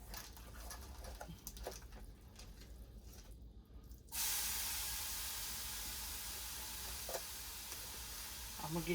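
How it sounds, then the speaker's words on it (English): Ground turkey drops into a hot frying pan and bursts into a loud, steady sizzle that holds on after a quieter stretch of kitchen clatter, with faint talking nearby. "in my frying pan right here, I'm going to add my ground turkey."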